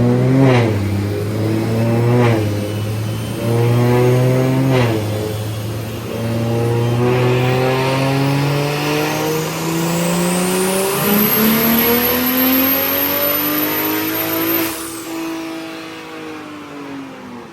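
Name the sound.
BMW 340i big turbo engine revving on a dyno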